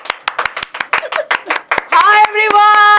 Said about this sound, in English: everyone claps, drum rolls